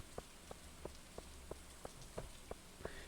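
Rain falls steadily in the farming video game Stardew Valley, with evenly spaced drip or tap accents about every third of a second over a constant soft hiss, heard alone.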